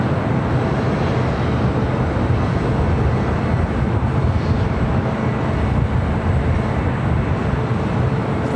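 An All Nippon Airways airliner arriving from Tokyo Haneda at Los Angeles International, a loud, steady roar of jet engines rumbling continuously throughout.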